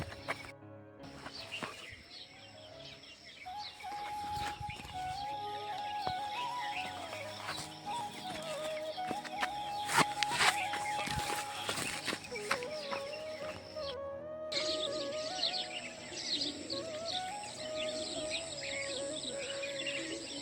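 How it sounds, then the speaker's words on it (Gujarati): Birds chirp and call steadily on a quiet morning beside the Banas river near a village, scattered bright tweets layered over a faint steady background. "પક્ષીઓનો એકદમ કલરવ અવાજ આવી રહ્યો છે"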